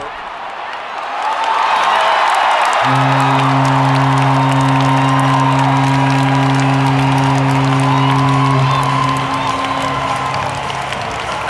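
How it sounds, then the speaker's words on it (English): A stadium crowd roars and cheers after a Toronto home run, a loud sustained swell with sustained horn-like tones sounding through the middle, and a voice speaking on top. "the crowd is going crazy"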